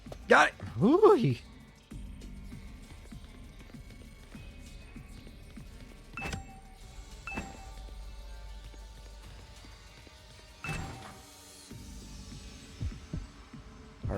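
A low, throbbing heartbeat from the video game The Hundred Line pulses repeatedly under a faint hum, with occasional sharp in-game effects and brief bursts of talking at the start.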